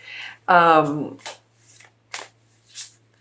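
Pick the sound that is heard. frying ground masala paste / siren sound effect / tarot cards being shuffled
tarot cards being shuffled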